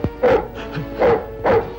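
A dog in a Kannada film scene gives three sharp, close barks spaced unevenly over about two seconds, with a faint background hum and no speech.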